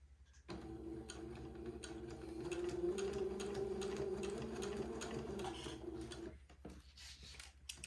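Sewing machine stitching a smocked bonnet slowly along a fold line, a steady close hum with a faint ticking rhythm that runs for several seconds before stopping.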